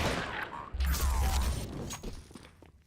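Dual Berettas fire in Counter-Strike during a BLAST Premier pro match: a dense, rapid fusillade of pistol shots with clattering mechanical clicks, loud and continuous for about two seconds before thinning out and fading.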